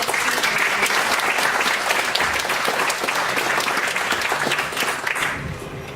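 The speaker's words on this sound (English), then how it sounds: "It's terrible, when people applaud and you say, that's eating into my time." An audience at a lecture at SOAS in London claps steadily and loudly for several seconds, a dense wash of applause that tapers slightly at the end.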